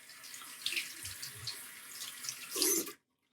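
A tap runs into a rinse bowl during a wet shave, a steady close splashing stream with small spattering shifts, swelling briefly near the end before cutting off abruptly.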